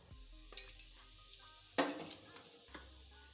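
Cardamom and cinnamon powder go into hot oil in a pan, giving a faint sizzle over quiet background hiss, with a few sharp clinks and scrapes from a utensil against the pan.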